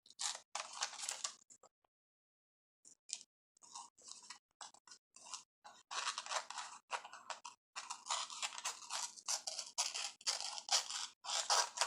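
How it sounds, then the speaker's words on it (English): Scissors cutting paper glued into a handmade journal made with gift wrap, with close, crisp snipping and rasping strokes in irregular bursts, separated by short quiet pauses. "I'm just cutting along the piece of paper that I glued down"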